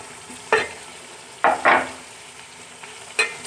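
Chicken frying in a pan with tomatoes, green chillies and ginger, heard as a few short bursts of sizzle and stirring scrapes separated by quieter background hiss, with no talking.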